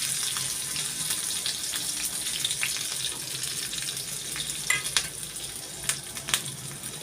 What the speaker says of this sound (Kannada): ಇದು ಒಣಮೆಣಸು ಮತ್ತು ಕರಿಬೇವಿನ ಸೊಪ್ಪನ್ನು ಹಾಕಿದ್ದೀನಿ ಒಂದು ಸ್ವಲ್ಪ ಇಂಗು